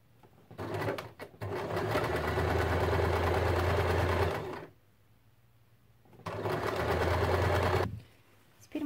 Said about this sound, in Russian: Делаем закрепки, чтобы не распустилась строчка.